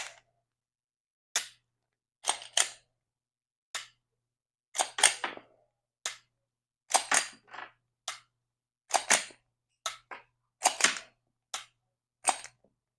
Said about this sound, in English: I was just dry firing. Just let you know, YouTube, these are snap caps.